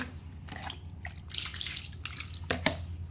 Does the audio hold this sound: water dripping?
yes